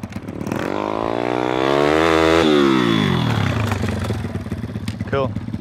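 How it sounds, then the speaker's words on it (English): Dirt bike engine decelerating under engine braking, a loud continuous motor note sliding down in pitch while the rear wheel chatters against the chain, ending in rough rapid clatter near the close. "that's the engine braking coming into effect where the back wheel actually goes, spins around and chatters with the chain"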